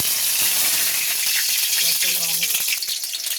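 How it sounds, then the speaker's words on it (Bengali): Nigella seeds and a green chilli hitting hot oil in a wok give a loud, bright sizzle and crackle, with a few clinks and rattles late on and no speech. "কড়াই যে তেল দিয়েছি, গরম হয়ে গেছে। এবার এতে একটু কালো জিরে ফোড়ন দিয়ে দেবো, কালো জিরে আর একটা কাঁচা লঙ্কা"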